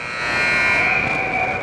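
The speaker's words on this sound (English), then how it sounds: "And the buzzer," Hockey rink horn-style buzzer sounding at the end of the second period of a high school game, one sustained loud tone held for nearly two seconds with arena ambience beneath.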